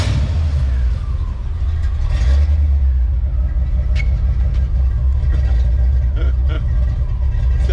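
A Ford Mustang Foxbody GT, started after sitting for 19 years, idles with a steady low rumble that swells into revs, running continuously and close by while people talk over it.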